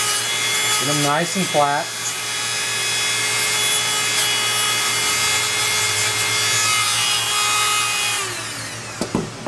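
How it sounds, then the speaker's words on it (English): A handheld Dremel rotary tool sands the tab edges of wooden gear parts, its steady high motor whine running close and continuous throughout, with a brief spoken remark near the start. "if you have a Dremel tool, is I will sand the edges like this, where the tabs are at"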